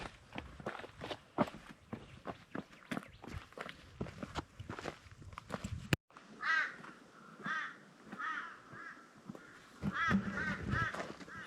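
A flock of crows circles a small hill between Devils Marbles and the East MacDonnell Ranges, cawing repeatedly in loud, ragged bursts, following a stretch of close footsteps on rough ground.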